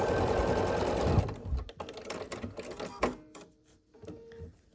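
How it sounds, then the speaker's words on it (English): A sewing machine stitches quilt block seams, a steady close whirring run that stops after about a second, followed by scattered clicks and brief bursts of mechanism noise. "we just need to sew the last 2 remaining seams"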